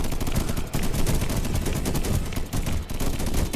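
Cannon turrets fire nonstop at a swarm of enemies in a video game, a dense, loud, steady barrage of rapid blasts and impacts with no talk over it.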